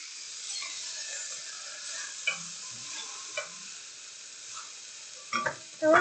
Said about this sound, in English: They'll probably really sizzle when I put them in here.